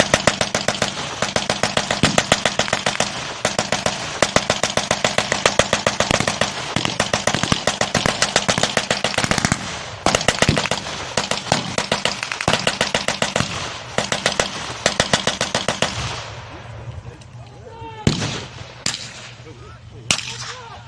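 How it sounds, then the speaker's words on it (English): Rapid, loud bursts of gunfire and mortar fire crackle almost continuously through a wartime battle re-enactment, with Germans and Americans exchanging fire; the barrage thins toward the end into a few isolated sharp reports. "So the Germans are firing back with their mortars."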